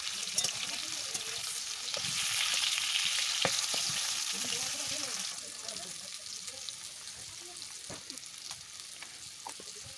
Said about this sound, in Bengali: আমি আলুগুলো সুন্দরভাবে এখন ভেজে নিচ্ছি